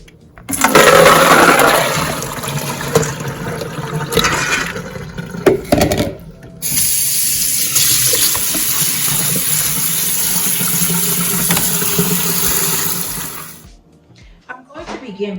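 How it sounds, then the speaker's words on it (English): Soaked black-eyed peas being rinsed in fresh water, with loud gushing and splashing from a tap into a bowl or sink, a brief pause, then another long steady pour that fades out near the end. "pour out the water and then give it a fresh rinse and get them ready for the pan"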